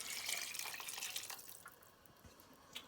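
Stock for an Irish vegetable soup pours into a pot with a splashing, liquid rush that eases into softer trickles and drips, with no talking.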